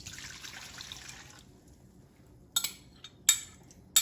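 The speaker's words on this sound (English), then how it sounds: "So we're going to pour this into this bowl." Bubbly yeast-activated milk poured into a bowl, a soft trickling stream for over a second followed by quiet, then a few light clinks of dishes or utensils nearby.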